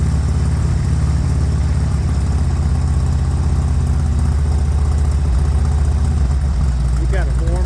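A motorcycle engine idles steadily while warming up, a loud, close, low rumbling throb that holds even throughout with slight vibration, with no voices over it.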